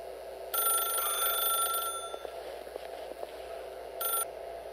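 Telephone ringing in The Stanley Parable video game, a loud electronic bell ring lasting over a second, then a pause and a second shorter ring, with a low background hum throughout.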